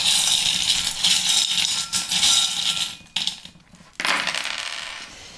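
Small metal charms tumble onto a surface during a divination reading, a cluster of bright clinking, jingling impacts with brief pauses, then a final scatter that rings out and fades.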